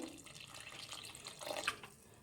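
Water is poured into a pot of goat head and leg curry, a steady trickling splash that runs for a couple of seconds, near and moderately loud, swelling slightly toward the end before fading.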